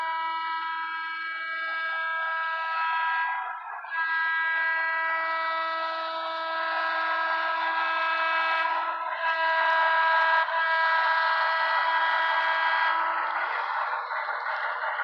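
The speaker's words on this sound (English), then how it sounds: "the locomotive that's running that sound equipped is a Broadway Limited Alcoa PA1" A Broadway Limited Alco PA-1 model diesel locomotive with DCC sound blares its horn in a long sustained chord, briefly dipping twice before sounding again, loud and close throughout.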